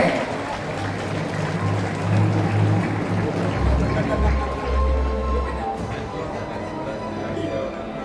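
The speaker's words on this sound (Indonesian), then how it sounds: "Mari kita berikan tepuk tangan untuk Bapak Haji Rano Karno SIP." An audience at the Canisius Expo 2025 school event applauds the Jakarta deputy governor, a broad, continuous patter of clapping heard under amplified talk and a low hum.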